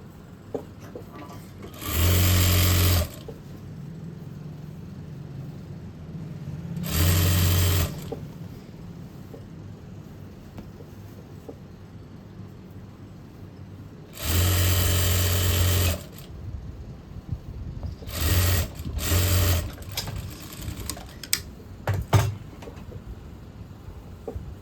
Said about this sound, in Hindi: फिर ये सिलाई लगा लेंगे हम।